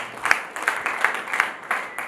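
An audience claps for a performer at a Hindi kavi sammelan poetry recital, a light, steady patter of many hands with rhythmic peaks, fairly close and continuous throughout.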